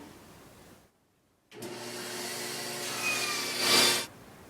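A bandsaw rips a short piece of wood, starting after a brief silence with a steady whining hum that builds to a louder cutting surge before easing off.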